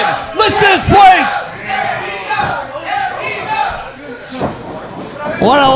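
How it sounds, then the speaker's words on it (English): Loud wrestling crowd at the MPW Arena in Chatsworth roaring and yelling continuously for close to six seconds, with shouts and whoops swelling near the start and again at the end, an announcer's voice riding over the din. "What an electrifying crowd."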